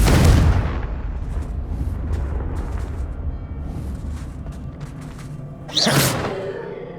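The Confringo blasting spell in Hogwarts Legacy erupts as a heavy, close explosion, then fades into a low rumble with faint crackles. A second sharp, bright burst hits near the end.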